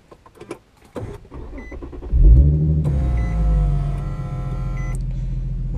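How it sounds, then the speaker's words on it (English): An Infiniti G37 / Nissan 370Z is started: a few faint clicks, then a short crank as the engine fires, rising to a loud, steady, rumbling idle close by. "You can start the car."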